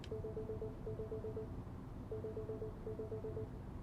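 Telephone ringing in the video game The Gap, a repeated electronic ring pattern in two double bursts of short pulses over a low hum, fairly clear and without talk.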